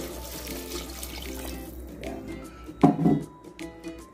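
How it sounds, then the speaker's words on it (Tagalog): Water runs and splashes into a cooking pan while sautéed water spinach and sweet potato leaves cook in a home kitchen, with a louder gush near the end before it settles. "lagyan natin siya ng tubig"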